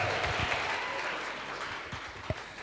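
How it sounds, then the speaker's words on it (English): An audience at a live MAC event gives a round of applause, a short spell of dense clapping that holds steady and fades slightly, with a faint voice briefly audible beneath it. "Can I please have another round of applause?"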